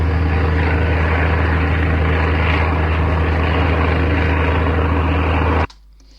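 An airplane propeller sound effect for a cartoon plane animation plays as a loud, steady, droning buzz with a low hum, cutting off abruptly near the end.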